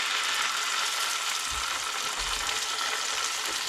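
Steelhead fish pieces sizzling in a hot pan beside a river, a steady broad frying hiss throughout with a couple of soft low bumps, close and moderately loud.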